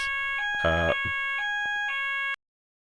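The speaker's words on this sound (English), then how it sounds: "There's a fire alarm." A fire alarm going off indoors in an apartment complex, sounding as loud steady electronic tones that pulse on and off in a few repeated bursts, with a brief louder buzzing burst near the start before it cuts out.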